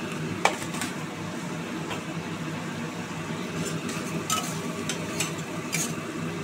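Spice masala for magur fish curry stirred and sautéed in a pan, with a soft continuous sizzle and occasional scrapes and clinks of the spoon against the metal, fairly quiet and with no talk.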